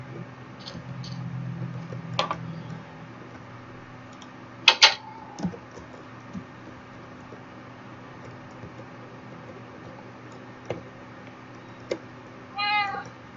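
A cat meows in a Minecraft-style video game: a short rising meow near the start, a few brief clicks and blips through the middle, then a quick burst of rapid mewing chirps near the end, with no talking over it.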